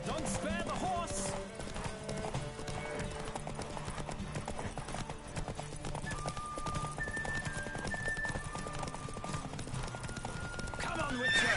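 Horses racing at full gallop in The Witcher 3, with constant drumming hoofbeats and repeated neighs, close and loud, mixed with music and people calling out.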